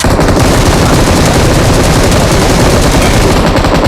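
Rapid automatic gunfire in the mobile battle royale game PUBG Mobile, a loud, dense and continuous stream of shots blasting without pause.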